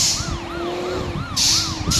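A police car siren in an Indonesian bus simulator video game wails in steady rising and falling sweeps over a low engine drone, with loud bursts of hiss breaking in near the end.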